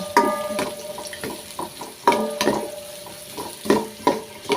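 Onion sautés in a pan for Filipino bopis, a close sizzle broken by repeated scraping, clinking stirs of a spoon or spatula against the metal at an irregular rhythm, with no talking.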